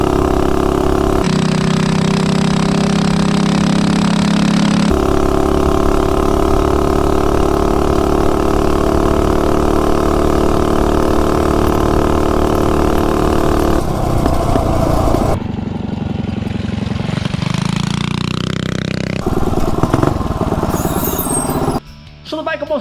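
A mini bike fitted with a modified engine runs steadily and loudly throughout, its tone shifting as it revs and changes speed, with a sharper transition near the end.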